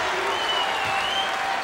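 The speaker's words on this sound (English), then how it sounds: "that's the nervous applause you hear sometimes in Assembly Hall" Nervous applause from a basketball crowd in Indiana's Assembly Hall during a college game against Penn State, a steady wash of clapping filling the whole moment with faint voices mixed in.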